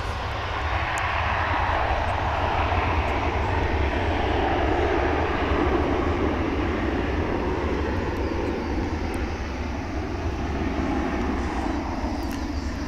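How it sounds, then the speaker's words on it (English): A United Airlines airliner departs DFW International Airport for San Francisco, giving off a constant, broad engine roar with a deep low rumble that stays even and fairly loud throughout, with no one speaking. "First out is a United flight to San Francisco."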